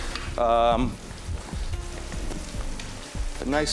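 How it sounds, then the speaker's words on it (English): Swiss chard sizzles and crackles in a hot pan, a steady frying hiss with a brief burst of louder noise near the start and end. "You can hear the Swiss chard starting to sizzle a little bit"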